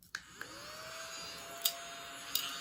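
A small desktop table vacuum cleaner runs with a steady, faint motor whine, punctuated by a few sharp clicks and taps.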